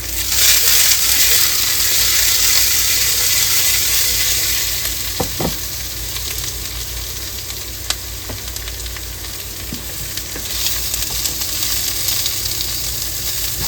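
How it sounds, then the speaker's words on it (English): Steady, loud sizzling of shallots sautéing in a hot pan for a peach glaze, with a few clinks and scrapes as they are tossed around. "Alright, we got some sizzling going on,"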